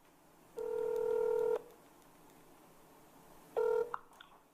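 Telephone keypad dialing tones, one long steady tone followed after a pause by a shorter second tone, clear and close in a quiet room.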